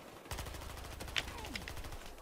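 MP5K submachine gun fire in the game Battlefield Hardline: a quick burst of rapid shots lasting about two seconds, fairly close and moderately loud with a crackling tail, no talking.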